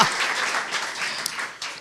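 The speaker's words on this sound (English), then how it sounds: "lots of applause now for this woman, right?" An audience at a live nonprofit showcase event in Birmingham applauds, a dense, steady wash of many hands clapping that fills the room, with no talk over it.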